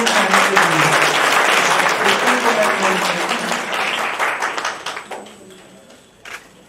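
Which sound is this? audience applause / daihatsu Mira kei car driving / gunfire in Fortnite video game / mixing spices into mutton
audience applause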